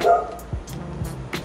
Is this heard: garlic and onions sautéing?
no